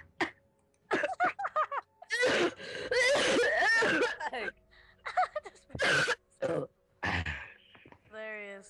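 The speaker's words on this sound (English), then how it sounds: "you're coughing so hard" A person coughs hard in repeated harsh fits mixed with throat clearing and breathy laughter, close to the mic, with voices in between.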